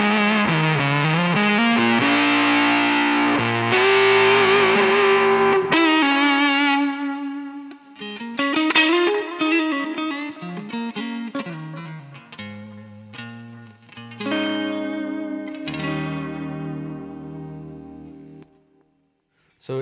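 An electric guitar through a fuzz effect on a James Tyler Studio Elite HD, played as sustained, saturated notes and short phrases with some echo, loud and alone, the last part thinner before a brief pause near the end.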